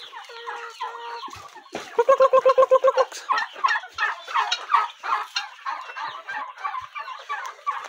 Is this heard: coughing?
no